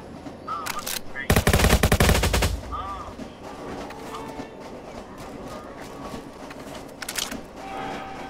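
Rapid automatic gunfire from the Roblox Jailbreak game during a duel on a train, with a loud dense burst followed by scattered quieter shots over background game sounds and music.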